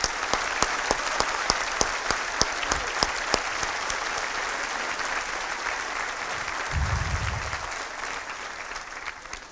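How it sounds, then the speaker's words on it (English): A round of applause at an Eid ul Fitr awards event, starting with a few sharp individual claps that quickly swell into steady, moderately distant clapping from the audience, with a brief low rumble near the end. "So give them a round of applause."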